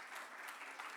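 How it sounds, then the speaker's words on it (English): An audience at a professional certification workshop clapping, a brief, dense patter of many hands that sounds soft and somewhat distant. "I think all of you can applaud"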